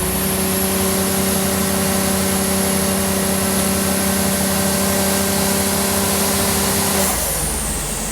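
A Nissan GT-R runs on a dyno with a loud, close, steady engine drone and a high whine that holds for several seconds, then drops off abruptly near the end; no voices.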